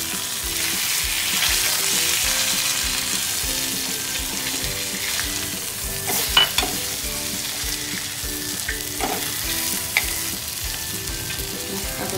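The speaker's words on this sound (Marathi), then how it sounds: "आपली एक बाजू शिजून झालेली, तर आपण आता दुसऱ्या बाजूने त्यांना पालटून घेणार आहोत" Food pan-frying in oil with a steady, continuous sizzle, flipped over to brown the other side, with a few brief clinks and stirring scrapes rising above the hiss and no talking.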